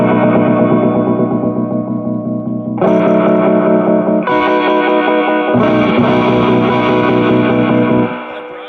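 An electric guitar, a 1979 Gibson ES-347, played through a 1968 Ampeg Jupiter B-22X amp on its vibrato setting with the afterbeat engaged, loud sustained chords pulsing and wavering, changing chord three times before fading.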